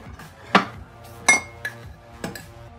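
A metal teaspoon clinks sharply against a cup while sugar is added to tea, producing four separate ringing taps, each followed by brief quiet.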